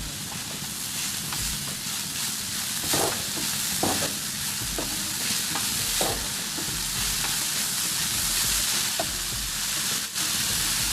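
A spoon or spatula stirs momo vegetable filling with chopped chilli, black pepper and salt in a pan, giving continuous close scraping and mixing with occasional sharper knocks over a steady sizzle-like background, no talk.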